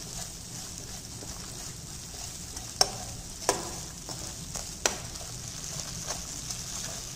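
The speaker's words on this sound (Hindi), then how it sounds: "मसाले को मीडियम फ्लेम पे भूनेंगे।" Spices such as coriander powder, meat masala and red chili powder roast in oil over a medium flame for a soybean curry, giving a faint, steady sizzle with a few sharp clicks of a stirring spoon.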